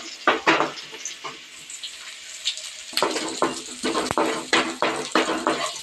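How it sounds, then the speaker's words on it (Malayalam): Chopped spinach frying in a pan for a Kerala buttermilk curry, a soft sizzle broken by scraping stirs and clinks of a spoon against the pan, close and moderate in level. "നല്ലപോലെ ഒന്ന് മൂക്കട്ടെ."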